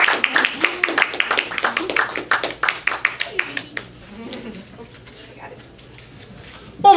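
Audience at an open mic night at a small gallery café applauding, a crowd's clapping fairly close for several seconds before tapering into quieter scattered claps and murmuring.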